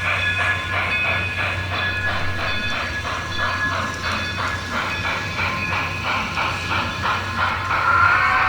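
A small N-scale model train engine at a train show gives off steady rhythmic chuffing, hiss and clatter, close by, with thin metallic tones over a low hum.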